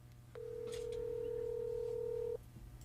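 A telephone dialing out to a station phone, starting with a short click followed by a single steady electronic tone that holds for about two seconds and then cuts off, with faint room noise around it.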